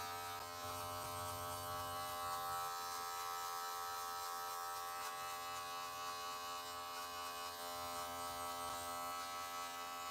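Steady buzzing drone of an electric hair clipper during a self haircut, continuous and fairly faint for the whole stretch with no talk over it.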